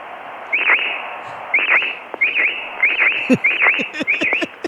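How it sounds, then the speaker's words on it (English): Repeated chirpy bird calls over steady radio hiss, each a quick rising-falling note, recurring about every half second to second, moderately loud. "I miss hearing the bird chirp"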